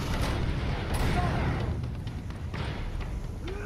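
Enemy gunfire in Uncharted 2: Among Thieves, a dense run of sharp shots and booming impacts in a fast firefight, loud at first and then a few scattered cracks, with a player talking over it.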